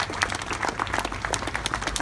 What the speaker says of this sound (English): So a big round of applause again for Rotary for making this happen.